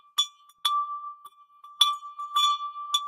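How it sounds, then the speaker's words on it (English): An antique brass bell, specially made, rings in a series of bright metallic strikes, about five or six clear dings with a sustained ringing tone between them, close and alone with no talking. "this beautiful antique brass bell that we had specially made for you guys. Let's hear it."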